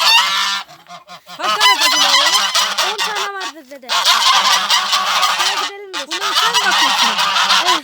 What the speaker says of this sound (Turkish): Kazlara gidiyoruz.